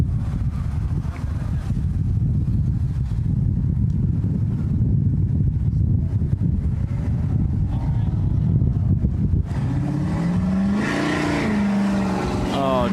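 A Hakone runs an autocross course at Anaheim Stadium and crosses the finish line with a steady loud engine roar and wind rush, while a commentator talks over it and a higher revving whine rises near the end.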